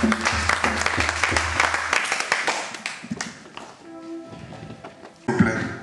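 A church congregation applauds during worship, with dense clapping and some rumbling crowd noise and voices mixed in. The clapping fades and then swells again briefly near the end.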